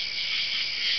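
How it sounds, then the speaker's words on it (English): A cricket chirps in a steady, continuous high-pitched trill, close and fairly loud, running alone for the whole second with no other sounds. "Cricket."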